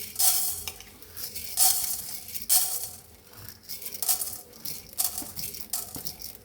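Urad dal roasts dry in a hot pan while a spoon scrapes and stirs it in repeated bursts, the grains rattling and hissing close by between quieter pauses.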